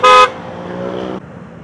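A Pia horn on a Yamaha Fazzio scooter gives one short, loud, bright toot, then cuts off into the low hum of the idling scooter.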